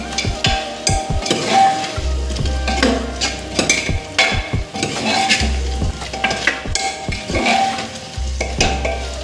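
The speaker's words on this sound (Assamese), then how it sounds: "এতিয়া আলুখিনি ধুনীয়াকৈ মিক্স কৰি দিম।" A spoon scrapes and stirs potatoes sizzling in a pressure cooker pot, with rhythmic clanks against the metal and steady frying underneath.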